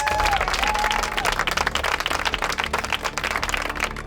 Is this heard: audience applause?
yes